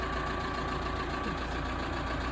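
A Massey Ferguson diesel tractor engine idles just after starting, a steady, continuous mid-low chug holding an even level throughout, with no talking.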